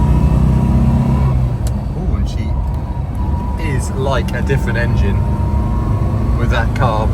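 A 1970 Lancia Flavia Milleotto Berlina engine with a restored Solex PAIA 32 carburetor hums and rumbles steadily while driving, with people talking over the cabin noise.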